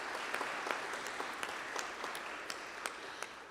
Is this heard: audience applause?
yes